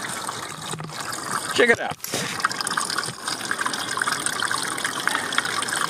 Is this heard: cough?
no